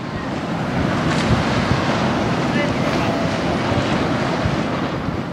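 Sea breeze buffets the microphone while water washes along the shore of Santander bay, a continuous loud roar of wind and surf with no break.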